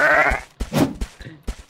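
Sheep in the survival game Reign of Kings let out a series of loud, close bleats, one long nasal call followed by shorter broken cries and thumping noises.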